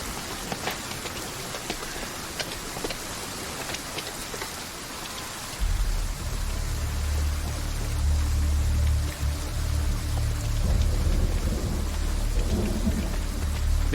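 Heavy rain with thunder outside a temple: thin pattering at first, then a deep roar of rolling thunder and a downpour that build and keep going loud to the end, with no voices.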